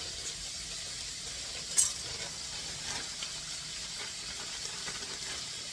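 Ground beef sizzling in a hot pan for spaghetti sauce, a soft steady hiss with a scrape of stirring near the start and light clicks of the utensil, fairly quiet.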